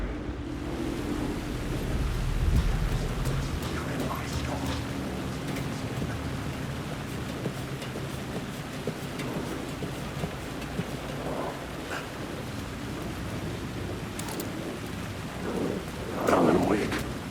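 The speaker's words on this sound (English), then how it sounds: "The rain never stopped falling." Steady rain with rumbling thunder in the video game Alan Wake 2, a continuous wash of downpour with low rolls of thunder, swelling around the start and near the end.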